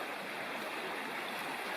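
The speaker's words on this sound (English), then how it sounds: "there's a nice easy crossing right there of the upper Wacheesy Creek" Upper Wacheesy Creek flows steadily at an easy crossing in the Upper Bald River Wilderness, a constant, even rush of moving water with no voices.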